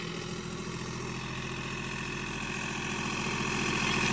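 A New Holland 3600-2 tractor engine runs steadily in first speeder gear during a field demonstration, a continuous close mechanical drone with a rapid rhythmic knock that grows slightly louder toward the end.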